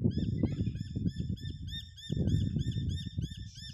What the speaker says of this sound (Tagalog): Ingay ng mga ibon.